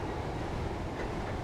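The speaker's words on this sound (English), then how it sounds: "Got a freight train there next to us." A freight train passing alongside in the Train Sim World 5 game on the London Victoria to Brighton line in snow, a dense continuous rumble and rushing roar, close and steady without talk.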